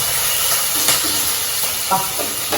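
Green chillies sauté in hot oil with cumin for a baby potato gravy, giving a loud continuous sizzle with light scraping stirs, no voices.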